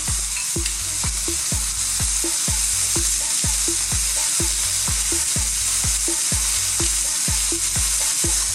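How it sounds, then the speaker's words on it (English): Brush whisking a marinade of mustard, garlic, honey and ketchup, heard as steady rhythmic scrapes about every half second, close and loud over a continuous hissing background, with no voices. "I'm just going to mix it up with my brush."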